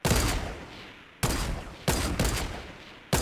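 Gunfire in the Fortnite video game: four loud bursts of shots, each hitting sharply and then tailing off into a ringing decay, spaced about a second apart with no talk.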